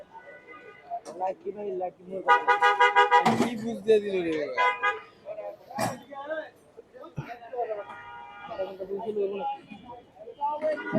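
A Suzuki motorcycle horn sounds in a few loud, sustained honks amid frequent close speech, with shorter blasts recurring later.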